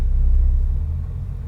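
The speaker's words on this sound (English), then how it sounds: "there goes the sand truck" A heavy sand truck rolling past at night at a guarded gate, a loud, deep, steady rumble close by that eases slightly as it continues.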